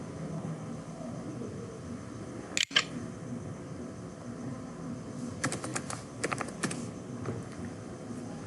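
Keystrokes on a computer keyboard while entering a command in a command prompt, a few quiet scattered taps with one sharper click and a short cluster of keypresses later, set against a faint hiss.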